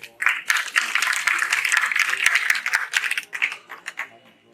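Audience applause welcomes senior advocate Shri Ramchandra Singh to the stage at the Shri Krishna Parishad golden jubilee ceremony in Patna, a dense, sustained burst of many hands clapping that swells quickly, holds steady, then thins and fades out.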